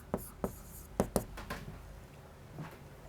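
Writing on a board during a physics lecture, with several sharp taps and scratchy strokes in the first second and a half, fading to faint scraping afterward.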